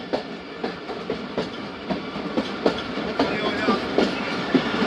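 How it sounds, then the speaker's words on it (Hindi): Train pulling into Bahawalpur railway station at high speed, heard from aboard, with rhythmic clickety-clack of wheels over rail joints and a steady rumble, with a voice faintly in the background. "बहावलपुर रेलवे स्टेशन पहुंची है ट्रेन। ज़बरदस्त स्पीड के साथ इंटर हो रही है।"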